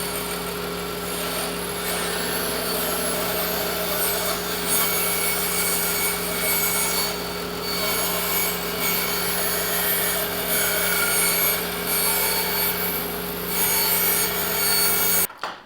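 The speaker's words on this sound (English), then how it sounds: "I'm just going to use the bandsaw to cut away the corners" A bandsaw runs steadily, its motor humming as the blade cuts away the corners of a wooden workpiece, a continuous close and fairly loud sound with no talking.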